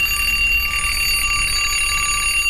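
An alarm clock rings continuously, a steady, shrill, unbroken metallic ringing that stays loud and close throughout with no voices.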